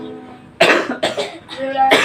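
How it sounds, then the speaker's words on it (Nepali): A person coughs four times in quick succession, loud and close, with short harsh bursts separated by brief gaps and a faint voice-like tone between them. "खोकी लाग्छ"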